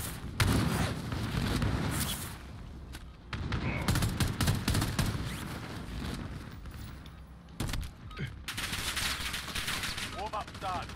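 Gunfire in a solo Call of Duty Warzone match, with repeated sharp shots and rapid bursts crackling through most of the stretch, loud and close, while a voice talks at times over the shooting.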